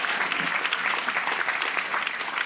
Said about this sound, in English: Another round of applause for the Vale Special School.